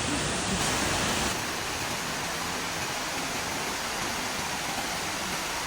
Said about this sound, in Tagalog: Ito na yung falls! Ayun na siya. Naririnig nyo ba? Ayan o. Ayan yung agos ng tubig.